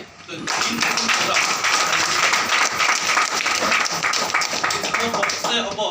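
Loud, sustained applause from an audience at a Modicare meeting in Cuttack, dense clapping that starts abruptly and keeps up evenly for several seconds.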